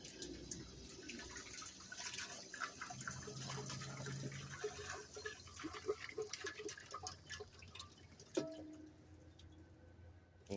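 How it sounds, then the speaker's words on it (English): Hydrogen peroxide pours and trickles steadily into a clear plastic container for several seconds, with faint handling clatter and a light knock near the end; no one speaks. "we're going to pour this into our clear container"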